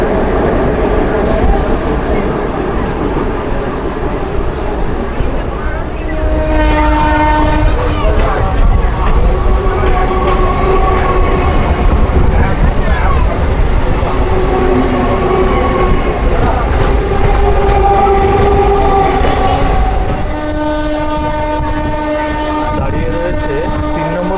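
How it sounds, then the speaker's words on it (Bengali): A train leaves Kolkata station and runs onto the main line, giving a loud, continuous rumble of wheels and cars with tonal horn-like bands sounding over it at intervals. "কলকাতা স্টেশন থেকে বেরিয়ে যখন মেল লাইনে ট্রেন ঢুকলো"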